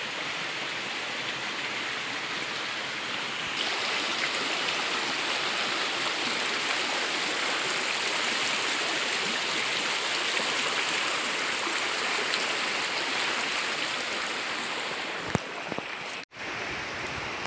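A river waterfall in a Kisii village rushes steadily, a broad continuous roar of falling water that thickens after the first few seconds and briefly dips near the end, with no voices.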